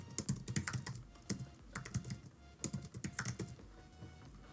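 Typing on a computer keyboard, quick bursts of close, crisp key clicks in an irregular rhythm with short pauses between runs, no voices.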